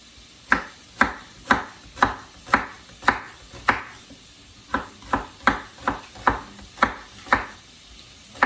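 A knife cuts onions on a board in even, sharp chops, about a dozen close, crisp strikes with a brief pause midway.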